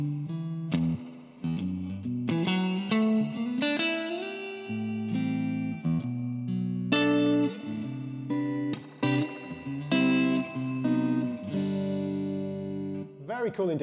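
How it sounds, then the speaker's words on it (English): An electric guitar plays through a Roland Micro CUBE GX amplifier with spring reverb and a dirty breakup tone, a string of picked notes and chords ringing out clearly, close and moderately loud. "there's a spring reverb on there as well, if you go right down into the bottom setting"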